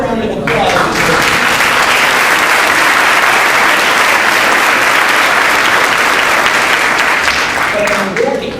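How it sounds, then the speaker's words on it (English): High school students applauding in a large hall, loud dense clapping that swells and sustains for several seconds, with faint voices underneath. "give them a round of applause"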